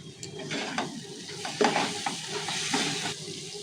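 Spices frying in hot oil in a pan for doi katla, a Bengali curd fish curry: a steady close sizzle with scraping stirs and light clinks of a utensil against the pan, no talking.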